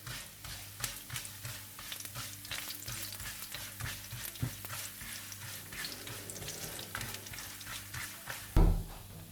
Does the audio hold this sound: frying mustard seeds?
yes